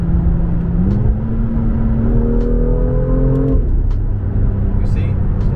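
BMW M2 engine held around 3000 RPM, a steady low rumble that swells slightly midway, with a person talking over it.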